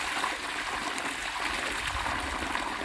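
Water runs steadily along an irrigation stream on farmland in the morning, a continuous close rushing and trickling wash that fills the whole stretch without pause.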